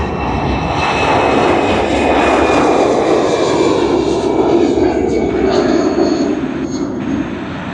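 Long-haul heavy jet taking off at Sydney Airport, a loud sustained engine roar with a faint high whine, steady and powerful throughout, with a voice faintly present beneath.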